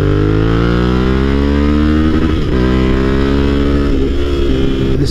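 A Yamaha Tenere 700 motorcycle, carrying a rider and pillion, accelerates hard out of a corner. The loud engine note climbs steadily in pitch through the gears, close and unbroken.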